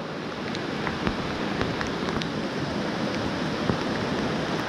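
Steady rain falls over a river during dry fly fishing for brown trout, a constant broadband hiss with scattered small droplet ticks and splashes, no voices.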